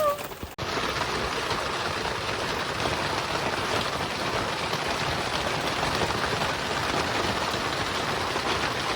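Rain falls steadily on a fiberglass sailboat hardtop in a solo DIY build, giving a dense, even hiss with a brief knock at the start, loud and close throughout.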